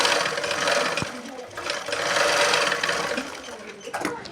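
A sewing machine runs steadily, stitching along the bottom edge of layered lining and main cloth in a tailoring setting, its dense whirring motor continuous and close for the whole stretch, with brief ticks and slight surges in pace.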